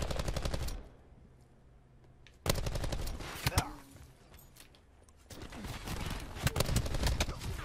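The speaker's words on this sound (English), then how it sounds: "I was shot in the back." Automatic gunfire bursts in Call of Duty Black Ops 4, loud rapid rattling volleys at the start, again around the middle with sharp single cracks, and near the end, with quieter game ambience and talk in between.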